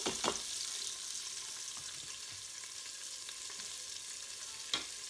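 Onions fry in a hot pot in a Quick Cooker, giving a steady, bright sizzle with a few soft clicks and scrapes from stirring.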